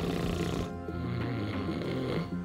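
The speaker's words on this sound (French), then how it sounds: "Tout le monde dans la maison ronflait tellement fort que j'ai pas réussi à dormir" Several people snore loudly in a house at night, a thick, continuous rumbling drone that carries steadily throughout without pause.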